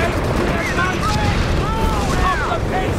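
Bomber explosions in Company of Heroes 3 rumble continuously across a wartime battlefield, with deep booms and crackling blasts layered over sweeping whistling tones.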